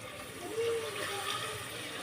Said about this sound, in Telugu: ఇప్పుడు ఎసరు పోసుకుందామండి